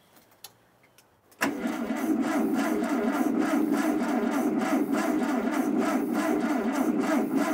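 Classic Volkswagen engine from a barn-find dealership cranking on the starter during a spark test, a quiet moment with a few faint clicks, then sustained loud rhythmic churning that never catches, close and alone.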